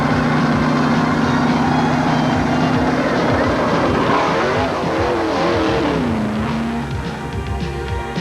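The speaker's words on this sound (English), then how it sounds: "blue and yellow Chevy screaming down pit road" A blue and yellow Chevy stock car from 1987 Winston Cup racing screams down pit road, its loud engine note rising and falling as it passes close by, with crowd and track noise behind.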